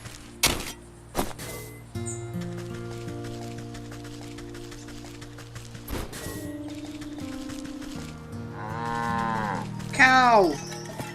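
Cow lowing in the Wytchwood video game, one drawn-out moo rising near the end over a steady backdrop of game music and a few dull thumps.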